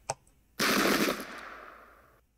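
Gunfire from units shooting in the Pike and Shot strategy game, set at the Battle of Seminara during the French invasion of Italy: a sharp click, then a loud burst of musket fire that rolls away into a fading echo.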